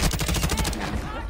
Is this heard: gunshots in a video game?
yes